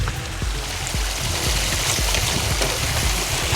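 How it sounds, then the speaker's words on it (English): Rocks thrown into a shallow stream, a series of splashes landing at irregular intervals over the steady rush of flowing water. "Kids are chucking rocks in the water."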